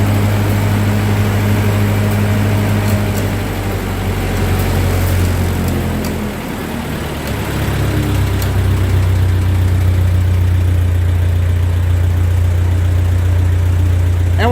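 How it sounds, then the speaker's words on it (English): A 1945 Ford 2N tractor engine idles at low speed, a steady close-up drone that dips briefly midway and then settles back into an even, unbroken idle. "we'll be able to slow the idle down some too"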